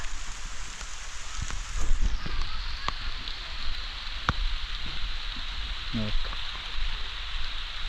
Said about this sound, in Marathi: आणि पहिला पाऊस तर एक नंबरच हो सकाळ सकाळी पावसानं हजेरी लावला